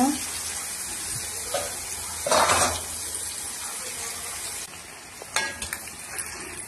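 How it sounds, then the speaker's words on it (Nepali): Slices of pointed gourd (parwal) fry in a pan, a soft steady sizzle broken by a few brighter bursts of spattering and stirring, with a voice talking quietly in places. "अहिले फ्राई हुँदैछ, अझै राम्रोसँग भइसकेको छैन।"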